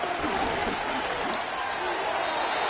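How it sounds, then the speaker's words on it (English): A stadium crowd in the Madden 25 football video game applauds the defense after an incomplete pass, a steady wash of clapping and cheering with a commentator talking over it. "How about some applause for the defense there?"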